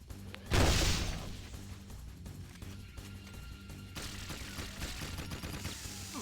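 Gunfire in the video game Jak II opens with a loud close blast, then continues as a rapid, steady stream of shots with a few heavier impacts, all amid game background noise.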